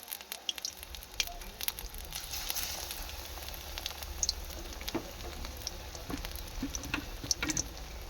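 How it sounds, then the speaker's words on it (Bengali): Besan-coated jackfruit chops deep-fry in hot oil, making a steady, fairly quiet bubbling sizzle with scattered crackles and pops that sets in after a brief pause, with no voices. "ছেড়ে দেবো তেলে। এভাবে ভেজে নেব।"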